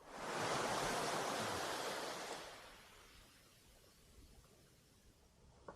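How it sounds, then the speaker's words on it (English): Surf from ocean waves on a quiet beach in the Banggai Islands, Sulawesi, Indonesia: a broad washing roar that swells then recedes into a soft, steady background hiss, with no talking. "Isn't this just an amazing beach?"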